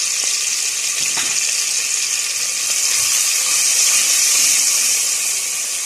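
Garlic sizzles steadily in a hot pan while being stirred for a chicken and meat macaroni casserole, a continuous bright hiss with a few faint clinks of the spoon and no talking.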